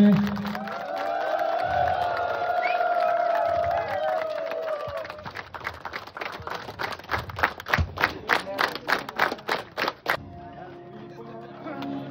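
Crowd applause at a Pre Losoong and Namsoong celebration for a newly promoted ASI: dense, rhythmic claps swell after talk and a murmuring crowd, then stop abruptly.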